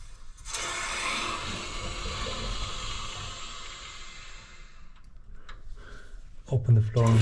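Water turned back on at the mains of a BAXI Main Eco 30 combi boiler, a steady hissing rush of flowing water through pipework for several seconds before it fades, followed by brief speech.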